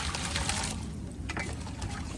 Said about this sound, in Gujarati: હવે આપણે આમાં પાણી નાખી દેવાનું